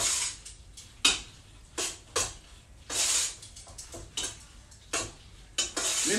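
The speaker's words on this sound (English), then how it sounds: "And then stir it around." Eggs being stirred into hot macaroni pasta, a series of short, sharp scrapes and clinks of a utensil against a pot, coming in irregular bursts with quiet gaps between.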